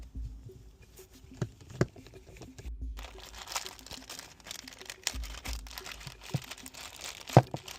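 A small plastic bag of mounting hardware for a 67 Designs mirror bracket handled close up, soft crinkling and pattering with a few sharper crackles, no voices.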